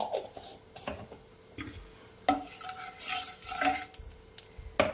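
Nigella seeds (kalo jeere) sizzling in hot oil over a lowered gas flame for a Bengali pabda fish curry, a faint crackle under repeated spoon-against-pan taps and stirring clinks, close and intermittent.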